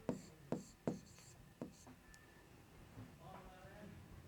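Chalk or marker strokes on a classroom board during a Hindi science lesson, a few sharp scratchy taps and short strokes in the first two seconds, with faint background sound after.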